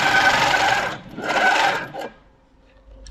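Pro Stitcher computerized quilting machine sewing tie-off stitches, two short close bursts of rapid stitching about a second each, then stopping into near silence.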